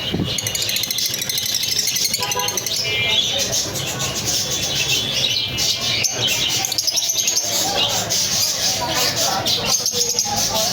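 Two pairs of pet lovebirds calling with a dense, continuous mix of shrill chirps and squeaks throughout, loud and busy, with a person speaking at times.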